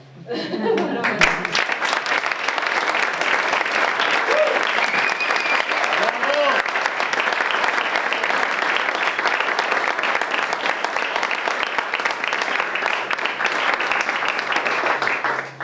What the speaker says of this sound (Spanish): Quiero un aplauso inmenso para nuestro patrimonio inmaterial.